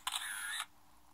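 A cartoon camera shutter clicks and whirs once, bright and close, lasting about half a second before quiet.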